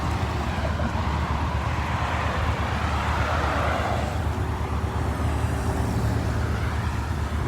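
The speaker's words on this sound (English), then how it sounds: "I'm waiting for this dumbass car to drive by" A car drives along the road with a loud, steady, close rumble of tyres and engine mixed with wind noise that holds at an even level throughout, with no voices.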